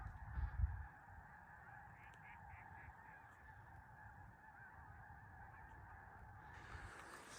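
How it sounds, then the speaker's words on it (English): A flock of birds flies in toward a lake in the Owyhee country of Idaho, giving steady honking, goose-like calls with a few quick clustered notes, over low wind rumble. "Here the birds come, headed to the lake."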